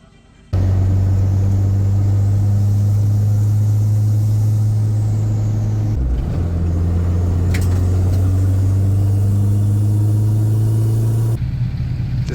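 A Nissan 300ZX with freshly tuned suspension on a night touge run, its engine holding a steady, loud, close drone with slight shifts in pitch as it drives, no voices.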